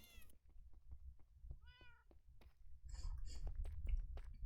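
A single close cat meow stands out clearly among soft clicks, chewing-like smacks and low room rumble, followed by busier rustling and splashy noise.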